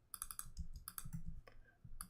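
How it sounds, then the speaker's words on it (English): Quick clusters of crisp key clicks from a computer keyboard as shortcuts are pressed, arriving in short bursts with brief pauses between them, close and fairly quiet. "I'm using the shortcuts on my keyboard because for me is a little bit faster."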